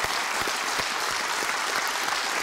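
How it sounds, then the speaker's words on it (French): A TV studio audience applauds steadily at a Belgian RTL TVI broadcast, the dense clapping even and sustained throughout with no voices over it. "et donc on peut vous applaudir,"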